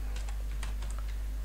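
Rapid, uneven keystrokes on a computer keyboard, entering a web address into a browser search bar, sound close and alone over a steady low electrical hum, with no one talking.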